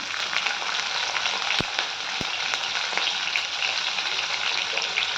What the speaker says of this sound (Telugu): ఇప్పుడు పచ్చిమిరపకాయ వేసుకుందాం.